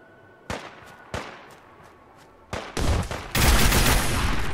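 Gunfire in the Fallout video game while shooting rad scorpions: a few isolated sharp shots, then dense rapid bursts of firing building to a loud, continuous barrage near the end.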